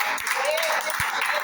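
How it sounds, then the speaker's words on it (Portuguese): A church congregation at a praise and worship service clapping their hands together, a steady wash of applause with a voice speaking over it. "Então louve a Jesus com as palmas."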